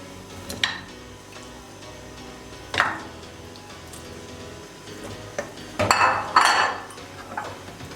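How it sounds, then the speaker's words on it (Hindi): Raw mutton chops dropped into a pressure cooker, a few sharp metallic clanks and clatters scattered over quiet kitchen background, with a burst of louder knocking near the end. "एक प्रेशर कुकर ले लिया, इसमें चापें डाल देंगे"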